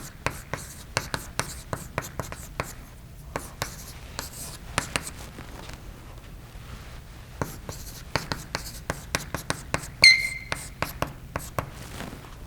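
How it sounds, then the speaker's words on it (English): Marker or chalk writing on a board during a control-systems lecture: repeated short scratchy strokes and taps in irregular bursts, fairly close, with a brief squeak near the end and no talking over it. "Let me just write down the expression."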